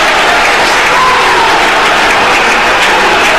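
Tranmere supporters in a football stadium applaud players taking the knee before kickoff, a steady loud wash of clapping from the crowd with no pauses.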